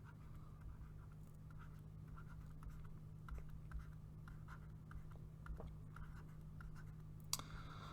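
A marker scratches steadily across a board during an algebra lesson, a close run of short dry strokes and taps over a constant low hum, with no one speaking.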